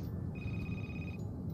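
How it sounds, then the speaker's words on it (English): A cell phone rings inside a snowy house in the video game Crimson Snow: a single steady electronic ring tone held for about a second over a constant low background hum, with no talk. "Right, our cell phone's ringing"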